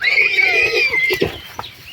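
A mare, a working draft horse, whinnies in a long, high, wavering call that trails off, followed by a few soft snorts and shuffling sounds nearby.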